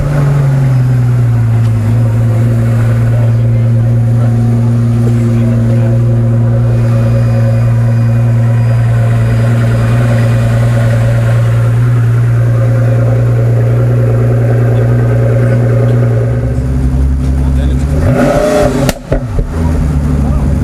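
A Pagani supercar engine at a Newport Beach open day runs close by as a steady, deep, loud drone, then gives a brief sharp rev near the end.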